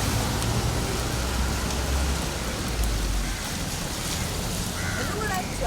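Steady rain falls during the Mumbai monsoon, a dense continuous hiss of drops hitting surfaces that stays loud and even throughout, with a low rumble underneath and a voice faintly present.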